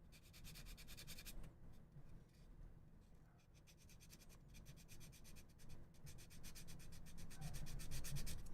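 Sanding a plastic part of a Gundam Albion ship model: steady, close rasping strokes in a quick back-and-forth rhythm, soft and continuous, with no voices.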